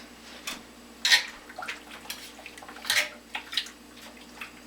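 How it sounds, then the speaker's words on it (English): Boiling water from a kettle is poured over tripe and splashes as it rinses the meat for Jamaican curry tripe, giving a few sharp, close splashes and wet trickles over a quiet kitchen background. "boiling water from the kettle to give it a good rinse."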